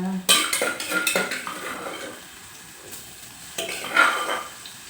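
Garlic stir-fried in oil for a Thai pumpkin stir-fry: a spatula clinks and clatters against the pan in quick bursts, then quieter scraping, with only a faint sizzle underneath.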